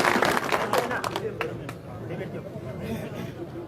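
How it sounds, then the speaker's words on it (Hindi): A crowd at a large outdoor political rally in Rajasthan claps briefly to welcome a speaker. The burst of applause is loudest at the start, then thins into murmuring chatter and background hubbub. "जोरदार तालियों के साथ स्वागत"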